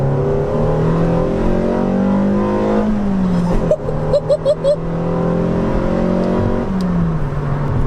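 A five-cylinder car engine fitted with performance cams and a custom remap revs loudly up through the gears on a slip road, its lumpy, throaty note rising and falling, with a few sharp pops partway through.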